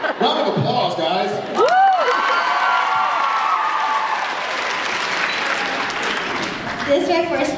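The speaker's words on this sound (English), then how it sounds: "Round of applause, guys." Loud applause from a crowd at a Supernatural fan convention panel, with scattered cheers and whoops, sustained for several seconds with voices mixed in.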